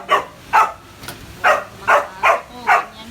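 Several dogs bark outdoors during Typhoon Kristine, about six loud, evenly spaced barks over three seconds with a steady low background between them.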